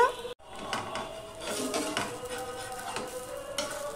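Spatula scrapes and clinks against a hot frying pan as food is flipped, with soft sizzling beneath a few sharp metallic taps close by.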